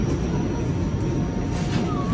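Steady rumble of a small ride-on train at an amusement park, a continuous low mechanical drone with a faint high squeal near the end and no clear talk.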